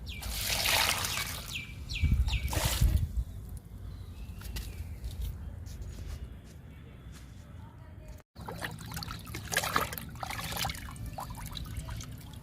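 Liquid fertilizer pours and trickles onto garden plants such as roses and jasmine in soil, a steady watery dribble running throughout with a louder splash early on, while a person talks over it.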